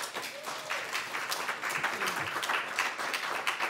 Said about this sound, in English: Another round of applause for all of our readers